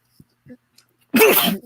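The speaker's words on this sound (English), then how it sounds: "Sorry, I sneezed." A single loud sneeze from one person bursts out near the end, preceded by a few faint small noises in near silence.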